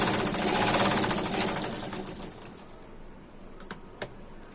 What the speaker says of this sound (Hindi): ये हुक वाली पट्टी है, इसमें सिलाई लगा लेंगे हम।